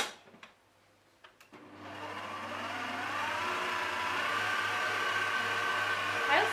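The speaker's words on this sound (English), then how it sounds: "I'm going to whisk my egg whites in my machine" After a few faint clicks, an electric stand mixer whirs up and runs continuously, whisking egg whites for a raspberry soufflé with a steady, bright motor drone that grows slightly louder.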